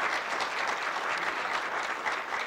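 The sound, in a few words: audience applause for panelists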